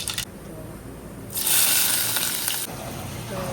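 Chopped onion and green chili frying in hot oil in a pan, a close, loud sizzle that swells sharply as the food is stirred and then settles into a steady crackle.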